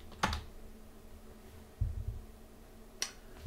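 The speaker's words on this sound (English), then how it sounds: "so let me just try typing Python." A few sparse, quiet keystrokes tap on a computer keyboard, isolated clicks spaced seconds apart against a faint steady hum.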